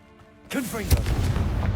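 A Confringo blast spell in Hogwarts Legacy bursts in suddenly after a quiet lead-in, a loud explosive boom with a whooshing tail, with a voice over the noise.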